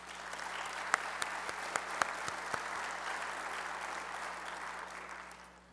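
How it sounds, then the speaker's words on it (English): Steady applause from a large audience at a public transportation conference general session, continuous clapping with a few sharper claps standing out, moderately distant and filling the whole stretch without talk. "let's just give them another round of applause"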